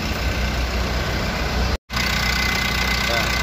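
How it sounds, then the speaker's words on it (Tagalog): A car engine idling after a battery load test on a vehicle with a dead four-month-old battery, giving a loud, steady, close rumble that cuts out briefly once midway and then resumes. "Ayan, andar na yung makina."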